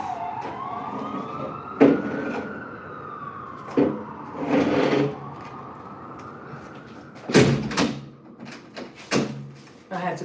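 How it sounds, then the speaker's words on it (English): A door being shut indoors, with several knocking, thudding impacts near the end while a siren wails and fades in the background and a person talks. "let me close this door"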